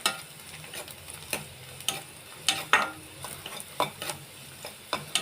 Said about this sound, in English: As you can see, I am frying these onion slices in the oil.